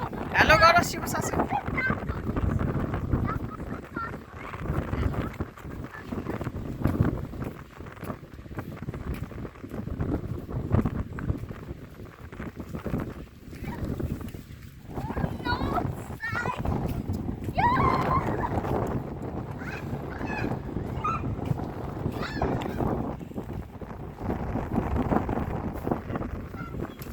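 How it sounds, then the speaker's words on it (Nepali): Strong wind blows at the seaside in Knokke, buffeting the microphone in gusty rumbling waves throughout, while people talk nearby and the sea surges close by. "आज त हावा लागेछ।"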